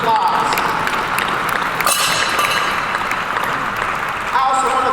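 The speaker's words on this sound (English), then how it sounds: "Let's give them a big round of applause." Broad clapping from an audience fills the clip, steady and fairly loud, with a voice briefly audible near the end.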